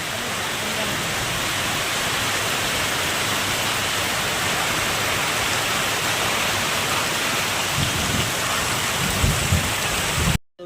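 Heavy rain falls steadily on a rural ashram road running with water, a dense continuous hiss throughout with low thunder rumbling in the later seconds before the sound cuts off abruptly.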